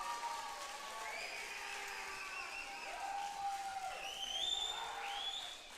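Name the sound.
applause from an audience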